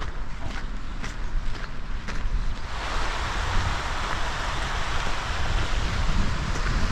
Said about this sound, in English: just listening to that flowing water